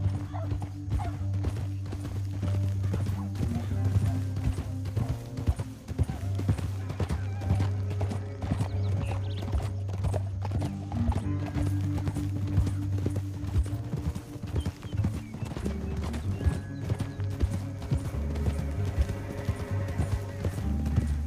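Horse hooves clip-clop at a steady trot in Red Dead Redemption 2, a continuous rhythmic gait lasting the whole stretch, with occasional snorts and a low musical drone underneath.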